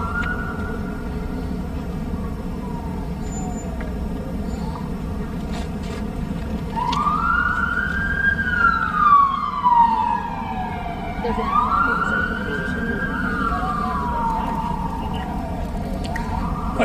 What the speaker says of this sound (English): I'm going to wait for the siren.